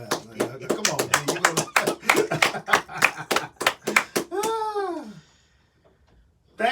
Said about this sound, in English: I gotta do my own hand clap.